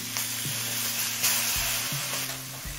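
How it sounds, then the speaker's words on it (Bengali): Steady, close sizzling as green chili and a mustard-poppy seed paste hit hot oil in a pan for an amodi fish curry, with a low constant hum underneath. "এবার কাঁচা লঙ্কা আর সর্ষে পোস্ত বাটাটা দিয়ে দিচ্ছি।"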